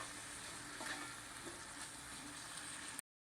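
Cauliflower masala fry being stirred in a pan, with a soft continuous sizzle and faint scraping of the spoon, quiet and close, with no talking.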